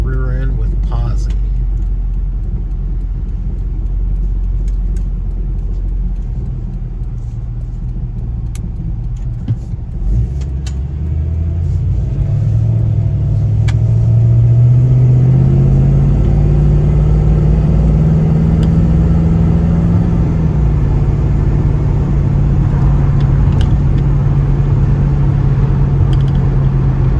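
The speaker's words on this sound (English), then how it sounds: "going to take the 1940 Ford out for a drive" A 1940 Ford Deluxe Coupe with a small block Chevy engine, 700R4 transmission and Ford 8-inch posi rear end drives along, its steady low engine rumble rising and holding while a voice talks over it.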